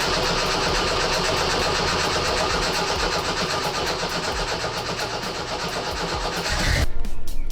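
A 1979 Jeep CJ7 engine, unstarted for a year, cranks and turns over with a steady churning rumble, then catches and roars louder for a moment at the end.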